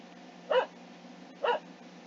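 Two single barks from a dog in the distance, about a second apart, over a quiet background hum.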